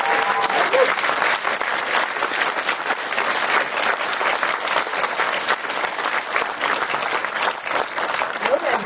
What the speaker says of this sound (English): Please give a huge round of applause for Christina Lindberg.